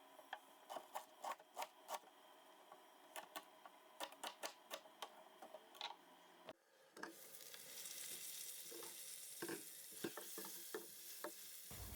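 Carrots and onions sauté in a pan, a series of sharp rhythmic stirring clicks and scrapes followed by a louder rush of sizzling as washed leeks go in, close and without talk.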